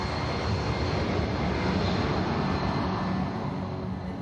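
An RAF C-17 military transport aircraft departs Edinburgh, its engines producing a steady, loud, broadband roar that holds evenly throughout without any voices.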